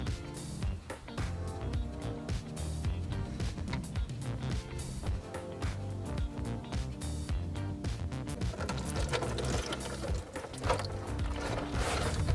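A ratchet with a 19 mm socket loosens the oil drain plug on a Seat 1.6 TDI, producing repeated close clicking and clattering throughout with a metallic ratcheting texture.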